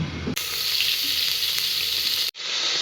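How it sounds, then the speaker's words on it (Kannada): Onion and chili frying in a hot pan, a loud, steady, close hiss of oil that cuts in abruptly and stops just as suddenly. "ಚೆನ್ನಾಗಿ ಅದನ್ನು ಫ್ರೈ ಮಾಡೋಣ."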